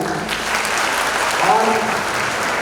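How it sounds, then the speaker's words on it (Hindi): A seated crowd of teachers and guests at a Teachers' Day poetry gathering in India bursts into loud, sustained clapping, a dense even roar with a brief voice rising underneath midway. "आज इन सभी बैठे अध्यापकों के लिए एक जोरदार तालियां हो जाए।"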